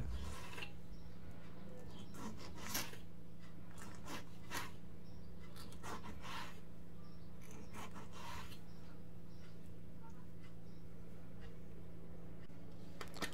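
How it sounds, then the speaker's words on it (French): A knife cuts a tomato into rounds in a quiet kitchen, giving a few soft, scattered slicing strokes against a steady low hum. "Et enfin, je découpe la tomate en rondelles."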